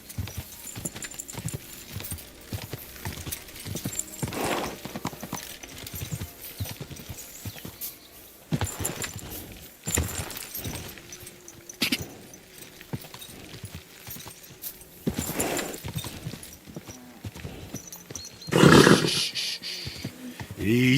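Horse hooves clip-clopping in the medieval video game Kingdom Come Deliverance 2, uneven hoofbeats under a busy mix of game sounds with a few louder thumps and bursts scattered throughout.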